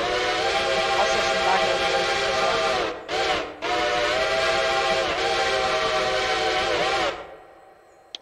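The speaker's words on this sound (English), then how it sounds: "We have Strasburg 90's Reading 6 chime," A Strasburg 90's Reading 6-chime steam train whistle from a Railroader game mod blows loud and sustained, with a rich multi-tone chord and a brief dip in the middle before a long blast that ends cleanly.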